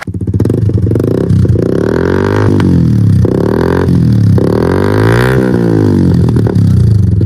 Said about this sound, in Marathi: शॉर्ट बॉडी अॅक्रोफोबिक लावून बघूया त्याचा आवाज कसा येतोय